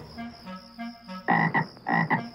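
A frog croaks in loud, rhythmic bursts, close by, with a faint high insect-like trill running underneath.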